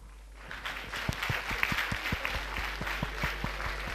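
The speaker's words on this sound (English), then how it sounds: "A bigger round of applause for all our guests here" A live audience applauds guests, including author Ruskin Bond and actor Rahul Bose, at a literary meet in Kolkata; steady, dense clapping fills the hall for several seconds at moderate loudness.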